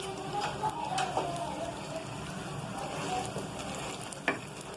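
Red chili powder cooking in a pan with oil for nali nihari, giving a steady close sizzle and frying crackle with occasional stirring scrapes throughout.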